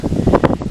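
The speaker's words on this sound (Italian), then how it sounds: "Scusate, c'è vento, è un disastro." Wind buffets a microphone outdoors on a windy day near a castle, giving short bursts of rumbling gusts that sound close and loud.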